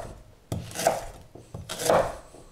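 A knife slicing through a parsnip on a cutting board in a kitchen, two firm close cuts each with a short scraping rasp, steady and alone without talk.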